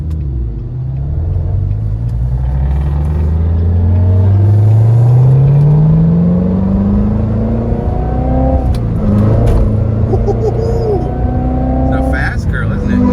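A stock Chevrolet Corvette Z06 accelerates while driving, its engine note rising steadily in pitch as it pulls, a loud continuous rumble heard from inside the car with voices talking over it.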